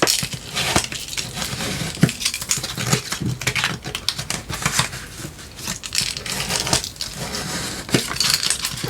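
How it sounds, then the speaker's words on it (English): Paper is creased and folded by hand for a beginner's handmade album, giving steady close crinkling and rustling with sharp crackles and soft taps throughout, no voice. "I think we'll just fold it all this way first."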